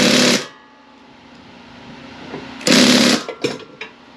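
Wrench tightening a nut on the tensioner of a 2018 Bad Boy Compact ZT mower, heard as two bursts of close, loud metallic ratcheting separated by a quieter pause, with short clicks at the end.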